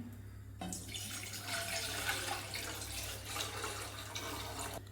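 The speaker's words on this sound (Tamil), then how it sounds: "தண்ணி ஊற்றிக்கலாம்." Water pours into a pan for Kerala-style black tea, a steady splashing stream that starts abruptly, runs about four seconds over a low background hum, then cuts off, with no one speaking.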